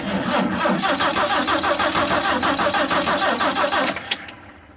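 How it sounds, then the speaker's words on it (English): A 1974 Ford E100 work van's engine cranks steadily without catching, a rapid rhythmic starter chug that runs loud and close for about four seconds before cutting off. "Cranking, engaged."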